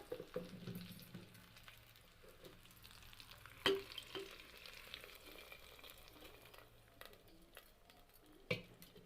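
Tempering spices including cumin and dried red chillies crackle faintly in hot oil in a kadai, a quiet continuous sizzle with scattered pops and a few sharper clicks, no voices.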